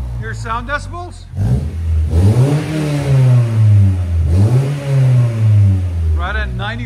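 A 1997 Honda Prelude with a 2.2L engine, headers and a Skunk2 Mega Power cat-back exhaust revs loudly and close, rising and falling twice in sustained bursts, with a voice talking briefly before and after.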